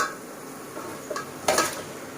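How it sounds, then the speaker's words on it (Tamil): Pieces of chicken dropped into hot separated oil and masala in a pan for chicken gravy, a soft background hiss broken by a couple of brief sizzling splashes and a louder burst near the end. "இப்போ நம்ம இந்த சிக்கனை அதில் போட போகிறோம்"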